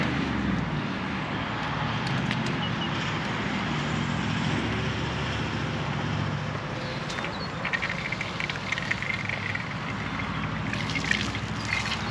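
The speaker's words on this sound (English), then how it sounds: "So I've just run the water out through there, it goes through our filter" Water runs out of a bladder through a filter in a steady continuous trickle, close and unbroken, with no talk.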